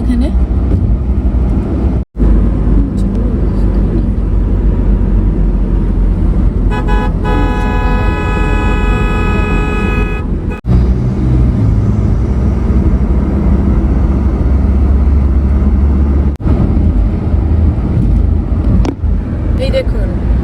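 A car drives over the Fulia flyover on NH-12 out of Kolkata, giving a loud, steady road and engine rumble throughout, with a brief horn-like tone midway and a person talking over it.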